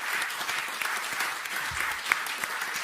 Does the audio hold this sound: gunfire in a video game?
no